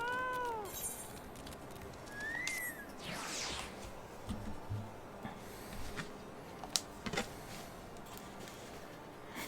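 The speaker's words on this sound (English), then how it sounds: "Don't squish that cat." A cat meows a few times, faint and somewhat distant, over a steady background hiss with scattered clicks and rustles, no voices.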